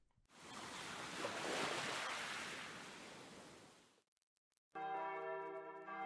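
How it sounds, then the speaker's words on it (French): Church bells ring out in the visual novel Narcissu 2nd Side, a sustained ringing tone entering after a few seconds of rushing, wave-like ambient noise and a short lull. "響き渡る鐘の音。"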